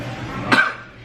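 A person imitating an audience member's cough after a failed joke, one short, sharp cough in the middle of a brief quiet pause.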